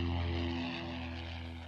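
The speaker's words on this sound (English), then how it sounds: "the company that will be doing the spraying in Ada County tested the plane using water, not chemicals" A crop-spraying airplane flying over Ada County during a water-only test, a steady droning propeller engine at moderate distance that slowly fades.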